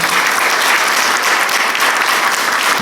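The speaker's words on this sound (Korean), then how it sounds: "박수로 축하드립니다" A church congregation at an Easter Sunday service claps together in warm, sustained applause, dense and even throughout with no clear voices above it.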